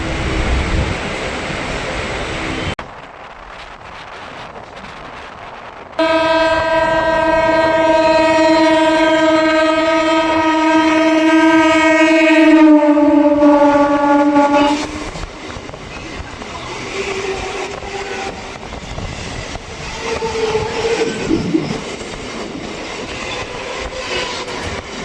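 Sealdah–Barrackpore galloping local train in motion, with a long, loud, steady horn blast over the rumble of the running carriages, and a fainter rolling rattle after the horn stops.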